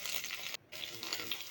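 Onion and garlic frying in oil in a clay pot, a steady broadband sizzle that drops out for a moment before resuming, close and moderately loud with no voices.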